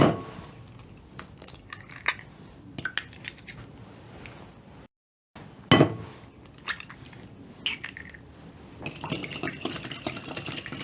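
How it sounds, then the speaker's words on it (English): Two eggs cracked into a bowl for French toast, a few sharp taps and cracks against the rim with small clinks, close and quiet, separated by pauses. "So I'm going to start off by cracking 2 eggs in my bowl."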